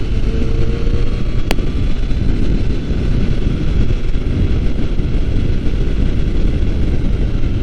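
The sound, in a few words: wind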